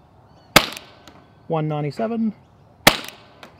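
Two sharp, loud shots from a Milsig HR3 semi-auto Nerf-style pistol firing Hydron ammo at lower velocity with the front half of the barrel removed, separated by a short spoken number in between.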